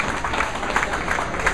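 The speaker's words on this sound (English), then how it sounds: "And a big round of applause as well." An audience at a bowling tournament applauds after a perfect 300 game, a dense, steady wash of clapping that stays loud and close throughout the short burst.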